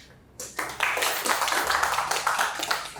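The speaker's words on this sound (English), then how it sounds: "Thank you for that applause" Applause from an audience at a United Nations Women award event, steady dense clapping that starts abruptly and carries on loud and close throughout.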